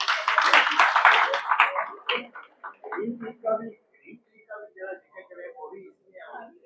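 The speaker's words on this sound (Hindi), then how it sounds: "उनके भाई के लिए तालियां हो जाए।" An audience at a health camp in Chandigarh breaks into a short burst of clapping for about two seconds, then a voice takes over in speech.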